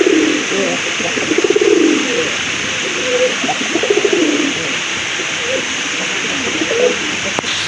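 Low, rolling pigeon coos repeat several times nearby over a steady background hiss.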